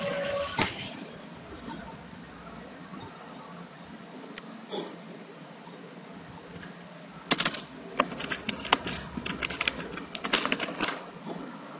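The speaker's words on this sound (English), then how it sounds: "kau tak dengar bunyi keyboard semua bagai" Keys clatter on a computer keyboard during an online game of Town of Salem, with a few isolated taps at first, then quick loud bursts of close typing in the second half.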